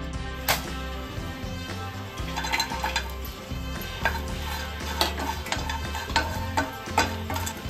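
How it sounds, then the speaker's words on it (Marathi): Dried Bombay duck fish roasts in a pan, with a low background hum under repeated clinks and scrapes of a utensil against the metal and a faint sizzle, close by and without talk. "बोंबील साफ करून झाले, आता ते भाजून घेऊया।"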